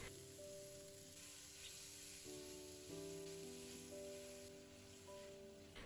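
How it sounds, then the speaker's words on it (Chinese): Soft sizzling of seafood mushrooms being stir-fried with scallion whites and minced garlic in hot oil, a faint steady crackle with light stirring scrapes and a few tonal hums in the background. "炒香之后，再把海鲜菇加进来，翻炒均匀，炒出海鲜菇的鲜味"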